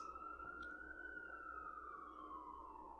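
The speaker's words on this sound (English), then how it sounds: "The sirens." Emergency vehicle siren wailing at a steady moderate distance, one long sustained tone slowly sliding in pitch over a constant low rumble of traffic, with no voices.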